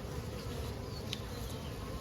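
Honey bees crowd on a hive frame, giving a dense, continuous buzzing hum that stays faint and steady throughout, with no voices.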